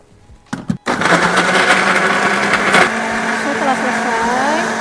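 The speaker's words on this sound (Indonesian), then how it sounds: "Sekarang kita blender." An electric kitchen blender grinds a turmeric and coriander spice paste with water, starting abruptly after a couple of clicks and holding a loud, steady whirring drone that shifts slightly in pitch as the load changes.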